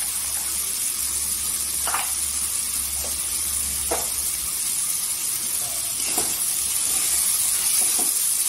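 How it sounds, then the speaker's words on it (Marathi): Masala powders frying in hot oil for a Maharashtrian curry give a steady, even sizzle and hiss throughout, close by, with a few soft scrapes of stirring and no talking. "मसाला टाकल्यावर तेलावर परतून घ्यायचा"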